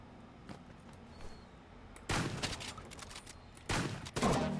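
Loud bursts of gunfire from a shotgun in the video game Rivals, two heavy blasts with a quieter shot before them, each followed by a rumbling tail, over a low steady game background.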